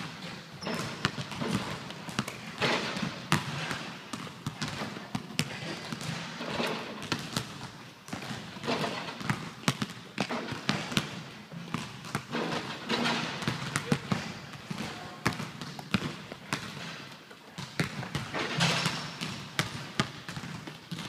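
A regular basketball bounces outdoors during form shooting practice outside the key, giving a series of irregular, fairly quiet thumps with short gaps between bursts.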